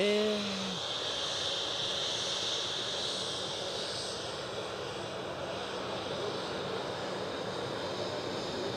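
A plane inbound at Edinburgh airport sends a steady, broad jet engine roar across the whole stretch, with a brief higher tone at the very start.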